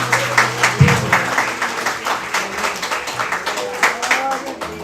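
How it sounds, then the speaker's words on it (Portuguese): A church congregation claps for the Lord, a fairly brisk burst of applause with rhythmic claps throughout, mixed with voices and cheering. "Uma salva de palmas ao Senhor."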